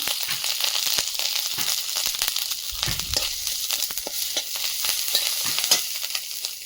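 Chopped ginger frying in a little oil in a wok, a loud, close, steady sizzle with crackling pops and occasional stirring scrapes throughout.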